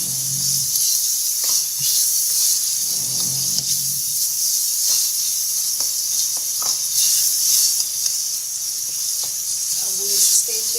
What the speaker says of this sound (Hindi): फिर से भूनेंगे।